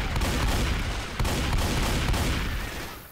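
Dense, continuous gunfire from the zombie shooter Left 4 Dead 2 at the Dark Carnival, loud rapid shots packed together without pause, easing slightly toward the end.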